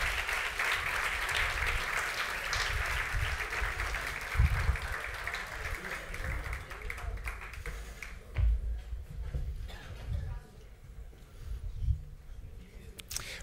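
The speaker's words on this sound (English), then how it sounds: "I invite the audience to welcome with applause." An audience at a Technion panel applauds to welcome panelists onto the stage, a sustained crowd clapping that runs for about eight seconds before thinning into scattered claps and shuffling.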